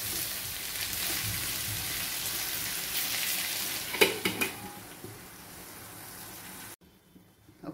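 Ivy gourd frying in a pan with garlic spice, a continuous gentle sizzle broken by a cluster of metal spoon scrapes and clanks as it is stirred, then quieter frying before a cut to near silence.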